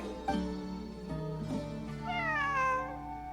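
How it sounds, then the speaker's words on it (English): A cat in Genshin Impact meows in a few rising and falling calls, the last one drawn out and whiny, heard clearly over a steady low musical backdrop. "It really is a cat."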